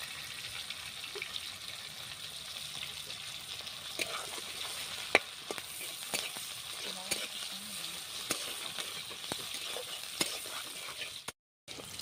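Steady sizzling of crushed garlic and five-spice (panch phoron) frying in hot oil, with occasional stirring clicks and scrapes over the continuous hiss.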